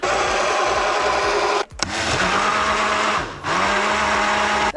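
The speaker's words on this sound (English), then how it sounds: "Take a look at my blender. It's the only one I got." Electric blender running at a campsite on a Cape York outback trip, a loud steady whirring motor close up, cutting out briefly twice and starting again with a shift in pitch, no talking.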